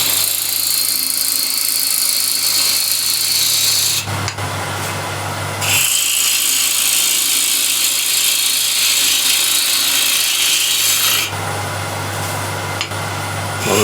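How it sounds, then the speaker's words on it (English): A wood lathe with a gouge cutting a straight line in a spinning wood blank, a steady loud whirring drone with two brief breaks where the tone shifts, with no talking. "now just use the wing of the gouge"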